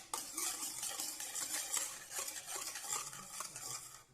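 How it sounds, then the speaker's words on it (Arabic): Pancake batter stirred in a bowl with a utensil, a steady scraping, swishing rhythm that continues close and unbroken, with no voices. "هكذا نحركو شويه حتى يتحرك سوا"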